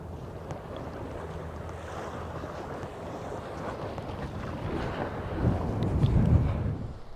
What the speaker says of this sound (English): There's a real wind blowing, and it's got a bit of a bite to it.